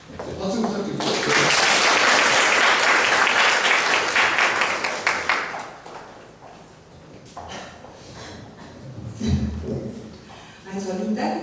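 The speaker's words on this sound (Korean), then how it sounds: "박수 부탁드립니다." Audience applause at a 3040 Taizé prayer gathering in Seongsu-dong Catholic church, loud and sustained for several seconds before fading into a voice beginning to speak.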